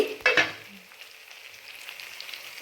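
Pepper chicken frying in a pan, with a sharp burst of stirring and sizzle near the start followed by a steady, fainter hiss of oil crackling.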